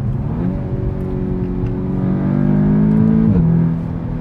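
An Audi S3 engine drones steadily, climbs in pitch as it revs, then drops sharply at a paddle-shift gear change, the exhaust note loud and close.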